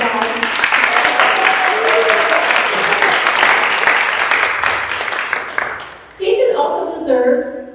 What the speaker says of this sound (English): Jason works really hard at our AV, so can we just give a round of applause?